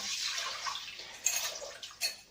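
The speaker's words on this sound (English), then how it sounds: "So take the stock that we've made into the pan." Bone broth stock pours into a pan with a soft, close, watery splash and a couple of small drips, quiet and without talk.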